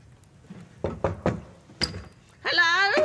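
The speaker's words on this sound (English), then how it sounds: "Go and knock on the door." Three or four sharp knocks land on a wooden door in quick succession, followed by another rap, and then a voice calls out loudly over the quieter room.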